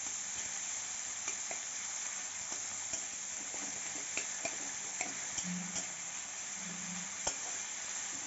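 Tomato frying with black cumin seeds in a pan, a soft continuous sizzle with occasional light taps and stirring scrapes, heard up close with no talking.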